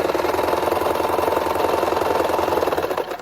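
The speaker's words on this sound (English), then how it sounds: "I've still got the machine on a tiny stitch length" A sewing machine set to a tiny stitch length runs steadily through a small fold of placemat or napkin fabric, its fast, even needle rhythm loud and close without pause.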